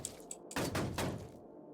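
A zombie bangs against a door in Cataclysm: The Last Generation, giving two heavy, close thuds about half a second apart, each with a short rattling tail, and no voices over them.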